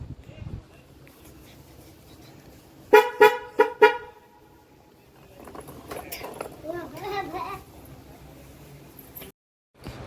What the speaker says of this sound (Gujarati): ચાલો તમને પે હોરન સંભળાવું ગાડીમાં કેવો હોરન છે ને એ